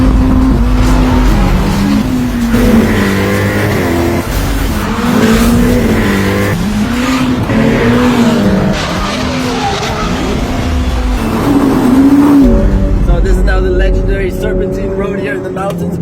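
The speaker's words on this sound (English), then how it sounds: "into the F8 Tributo now, which is the successor of the 488, and similar concept. So V8, turbocharged, 720 horsepower" A Ferrari F8 Tributo with a turbocharged V8 and 720 horsepower is driven hard on winding mountain test roads. The engine roars loud and close, rising and falling through the gears with tire squeal, and a voice talks over it.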